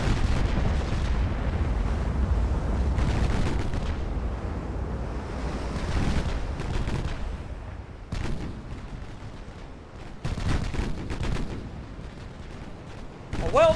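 Naval guns fire during a battle in the Ultimate Admiral Dreadnoughts game, repeated booming blasts over a constant rumbling sea-like roar, with sharp bursts spaced every couple of seconds.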